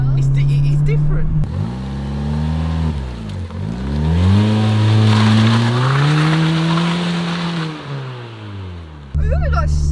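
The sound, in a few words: Fiat Punto revving with cheap aftermarket exhaust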